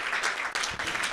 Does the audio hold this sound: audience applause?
yes